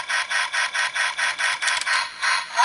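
A Power Rangers Samurai Bullzooka toy gives its basic firing sound, a rapid electronic buzzing pulse repeating about eight times in quick rhythm, close and fairly loud.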